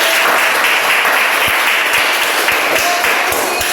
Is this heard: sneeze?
no